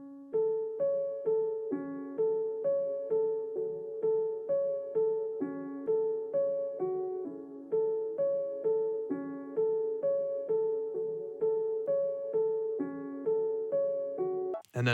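A repetitive piano key melody from a dark trap sample, EQ'd and slowed with a halftime effect, so its plucked notes fall in a lower, heavier, spaced-out loop; it plays alone at steady loudness, with a brief burst at the very end.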